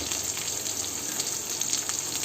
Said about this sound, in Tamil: இப்போ பார்த்திங்கன்னா வெங்காயம் நல்லா வதங்கிட்டு இருக்கு.